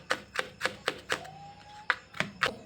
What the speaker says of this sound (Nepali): लसुनलाई चाहिँ यसरी क्रस गर्ने